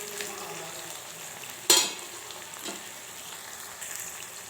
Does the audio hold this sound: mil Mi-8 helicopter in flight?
no